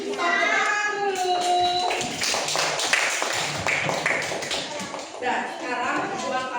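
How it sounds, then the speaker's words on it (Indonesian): Young children in a classroom clap their hands in a quick burst of taps mixed with their chatter and voices, then the clapping fades as talk continues. "Tepuk tangan dulu."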